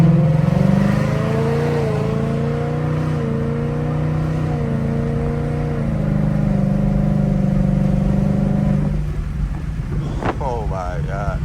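A Ford S550 Mustang with an aftermarket exhaust holds a loud, deep, steady drone with rising engine pitch, close and continuous, then drops off near the end as a voice comes in over it.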